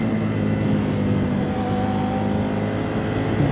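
A 2024 CFMOTO 800MT Sport motorcycle engine holds a steady, loud, close drone for the whole stretch, with no clear rise or fall in pitch and no voices.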